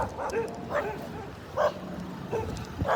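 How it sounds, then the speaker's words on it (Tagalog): Several dogs bark intermittently at a moderate distance, short yips and barks scattered over steady outdoor background noise. "May mga aso."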